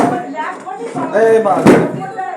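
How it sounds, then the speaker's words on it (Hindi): A house door in Yamunanagar, where snakes have turned up during the monsoon, is pulled shut with one sharp slam partway through, while agitated voices shout close by. "दरवाजा खींच दो बाहर वाली तरफ"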